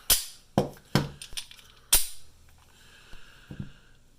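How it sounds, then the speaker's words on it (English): Slides of Taurus G2C and G3C pistols snapping shut: several sharp metallic clacks close by, a quick pair then a louder single one, followed by softer handling clicks. "So let's close the slides."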